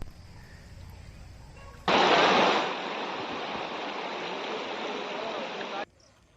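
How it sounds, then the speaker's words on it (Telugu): Floodwater after Cyclone Ditwa rushes loudly in Nellore district as homes are inundated, a steady broadband roar that surges abruptly, eases slightly and holds for about four seconds before cutting off. "ఇళ్ళంతా నీళ్ళు వచ్చేస్తున్నాయి."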